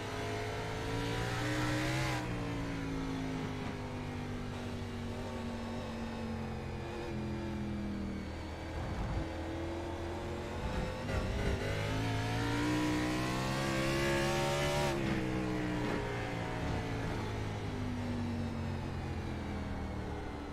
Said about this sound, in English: Just listen to the engines hum.